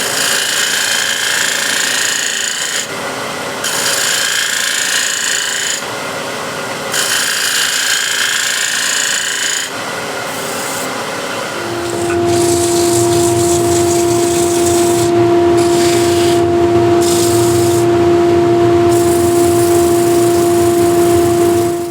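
Loud, close scraping of a shear scraper against spinning wood on a lathe, coming in bursts with short pauses over a steady motor whine.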